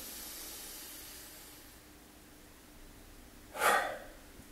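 A single sharp, breathy inhale or exhale during a yoga breathing exercise comes late in the clip, brief and fairly close, after a quiet, faintly hissing stretch.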